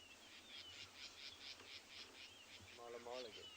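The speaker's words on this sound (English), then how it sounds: "You can probably hear a number of birds flittering around us and calling. Southern black tits," Several small birds, southern black tits and rattling cisticolas, call and chirp around a dawn bush setting, with repeated high chirps and a short rattling trill near the end, moderately near over faint background noise.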